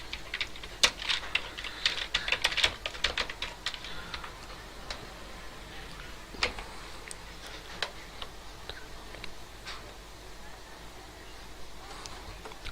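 Keys clatter on a computer keyboard as text is typed into Adobe Photoshop, a dense burst of quick clicks early on that thins to sparse, scattered taps, close and moderately quiet.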